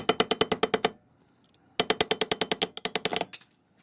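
Sharp metallic taps of a hammer on a starter punch driving the retaining pin into an LR-308 rifle upper, two quick bursts of evenly spaced strikes separated by a short pause, close and loud.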